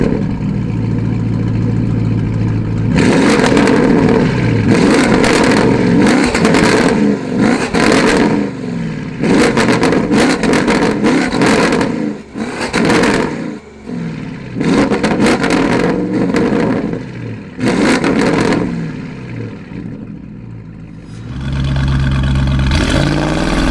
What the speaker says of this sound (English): So we're out in this crazy Cayenne GT Turbo.